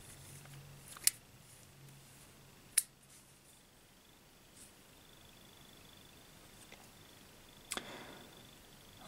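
Sharp, faint metallic clicks from the spring-loaded button of a watch-inspired folding knife, three or four isolated snaps spread apart in an otherwise quiet room.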